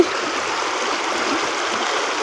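Steady broadband rush of running water, like a stream flowing nearby, continuous and fairly loud with no voices.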